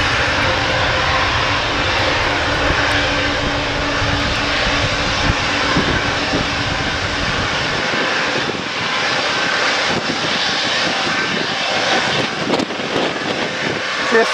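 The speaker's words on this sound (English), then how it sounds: "a business jet." Bombardier Global Express business jet at London Stansted Airport, its engines roaring loud and steady throughout, a broad continuous jet rumble with no talking.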